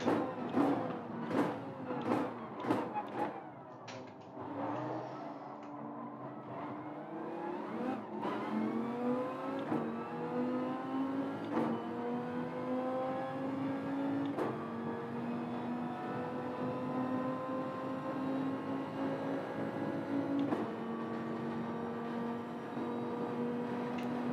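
Dodge Viper engine in Gran Turismo 7, revving up through gears with a rising, steady drone after a few sharp blips at the start, loud and close, no talking.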